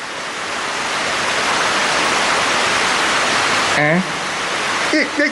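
Water gushes loudly and steadily in a broad rushing roar, close by, with a short voice cutting in near the end.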